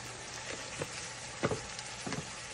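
Chicken gizzards and liver frying in a pan, Nepali style, with a steady soft sizzle and a few brief scraping stirs, close up and with no talking.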